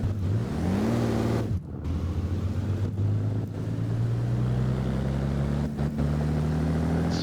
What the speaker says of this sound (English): It's sputtering now.